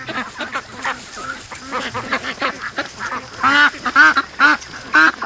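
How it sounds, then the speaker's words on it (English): Ducks at a swamp quack in a loose run of short, nasal calls, close and growing louder toward the end, with no talk over them. "Oh, look at this. The little duck."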